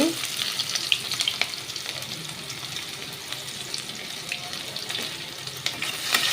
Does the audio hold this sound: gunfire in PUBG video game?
no